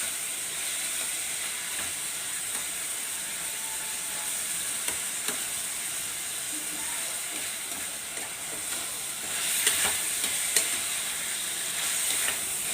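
Ingredients for an egg and prawn curry fry in a hot pan with a steady, dense sizzle and hiss that grows a little louder and crackles more toward the end, with occasional stirring scrapes and no talking.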